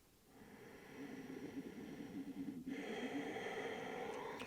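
A deep breath taken in a yoga session, drawn in as a soft, airy rush that swells for a couple of seconds, then a brief catch and a steadier, brighter exhale, close and alone.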